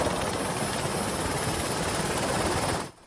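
A Super Puma rescue helicopter flies during a tourist rescue on Samothrace. Its loud, steady rotor and engine roar holds constant for about three seconds, then cuts off abruptly, with no voices.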